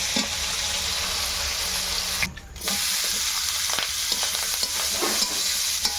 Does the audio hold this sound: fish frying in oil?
yes